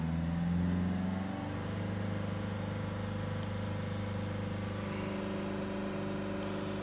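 A 2013 Nissan X-Trail 2.0 diesel with sluggish performance idles up during regeneration, its steady engine drone settling to a higher, even hum after a brief shift, close and continuous with no talk.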